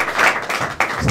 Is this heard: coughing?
no